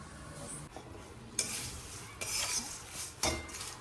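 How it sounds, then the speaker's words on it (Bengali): Flattened rice (chire) dry-roasting in an oil-free pan, stirred in a few bursts of scraping and rustling against the hot metal, with quieter stretches between strokes and no talk. "শুকনো খোলায় জাস্ট একটু ক্রাঞ্চি হওয়ার জন্য নেড়ে নেব"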